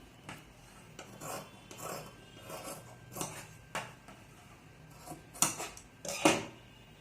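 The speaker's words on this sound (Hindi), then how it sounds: "देखो मैं इस तरीक़ा से इसको गोलाई से काट देती हूँ।" Blouse fabric being cut into a curved shape with scissors, giving a series of short, crisp snips and rasps spread across the moment, close by and fairly clear, with no talking.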